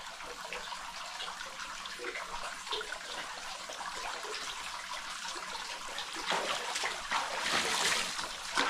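Water rushes and splashes steadily through an underground river cave in a forest, a continuous broadband flow that swells louder near the end, with no talk over it.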